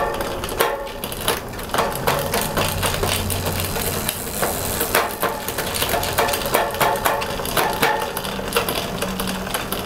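A bicycle drivetrain with a SRAM cassette on a 12-speed Dura-Ace setup runs on a trainer, giving a continuous whirring chatter with repeated sharp clicks and clunks as gears shift and a chain struggles to engage.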